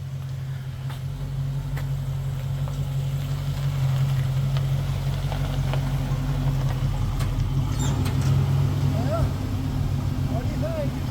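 A 1976 Chevrolet Scottsdale pickup truck engine drones at a low, steady idle as it drives up, a continuous rumble with faint birdsong and voices in the background.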